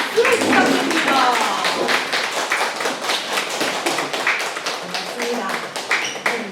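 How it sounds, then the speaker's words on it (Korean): Children's day event audience at a Daehangno theatre café clapping as children come forward for a press meeting, dense uneven hand claps filling the room with murmuring voices beneath. "박수를 부탁드립니다."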